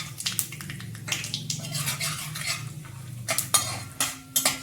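Peanuts roast in a pan with mustard seeds and cumin, giving a soft sizzle beneath repeated scraping and clinking of a spoon against the metal pan, close and moderately quiet.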